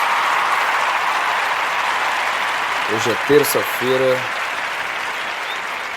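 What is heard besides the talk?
applause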